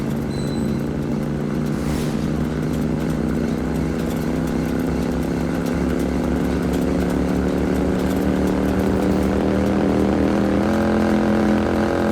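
Droning lawnmower engine in the video game Watch Dogs, a steady buzzing motor running continuously and fairly loud, with a slight shift in pitch near the end and no talking.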